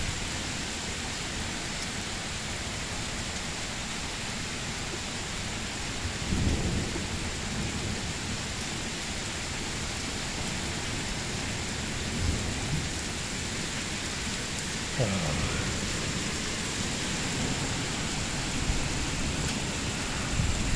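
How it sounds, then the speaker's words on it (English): Steady heavy rain hisses throughout during a night storm, with wind and rain striking the corner of a house and low rumbles of thunder rolling in now and then. "Got some rain and wind coming off the corner of the house big time on that side."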